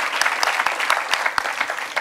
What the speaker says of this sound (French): On peut vous applaudir pour tout ce que vous avez produit.